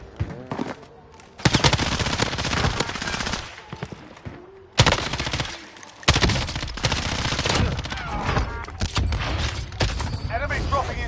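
Bursts of M13 rifle fire in a video game streamed on PS4, sharp automatic volleys in several long loud strings separated by brief pauses, with a player talking over the shooting.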